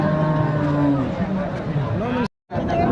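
A cow moos long and loud at a busy rural cattle market in Chaubaria, with a deep drawn-out call over crowd babble, then a brief silence before the market noise resumes.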